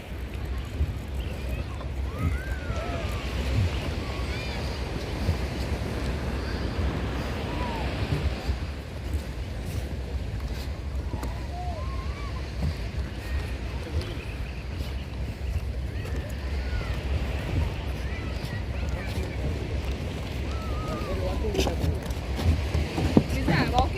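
Sea waves wash in steadily at Panambur beach, a constant broad surf wash with wind noise buffeting the microphone and voices talking faintly in the background.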